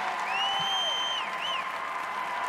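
A home crowd at the 2017 Skate America competition applauds after a figure skating short dance, a steady wash of clapping and cheers beneath faint whistles.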